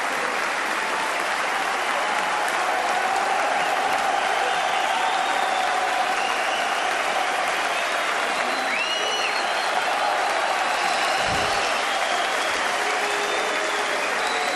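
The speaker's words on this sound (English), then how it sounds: "People are standing, everybody's clapping." A boxing arena crowd rises to its feet after a European welterweight title fight, sustained thunderous clapping and cheering filling the hall for the whole stretch, with a commentator's voice faintly beneath it.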